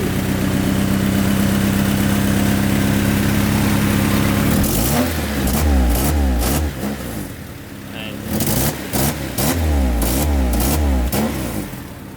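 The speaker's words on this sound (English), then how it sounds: "what we're gonna do right now is just start the car and see what happens" A Honda Civic engine starts up and revs in a few loud surges, with steady idle and low rumble between the bursts, close and unaccompanied by clear talk.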